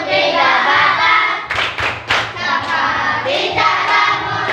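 Young third and fourth grade children at a Ramadan school program clap a rhythmic fasting chant, sharp grouped claps and thumps in an irregular pattern, loud and close, with singing voices between the beats.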